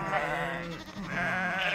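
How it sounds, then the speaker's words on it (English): A farm goat bleats in one long, wavering, nasal cry that carries steadily from start to finish, loud and close with no other sounds around it. "Goat."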